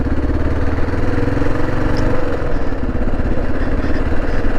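A motorcycle engine idles steadily after a spring ride, warmed up before an oil change, a close, even mechanical putter with a faint clatter and no voices.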